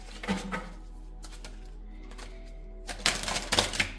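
Tarot cards are shuffled and drawn, giving soft, crisp clicks and snaps near the start, a quiet stretch, then a flurry of sharper card flicks toward the end over a low steady hum.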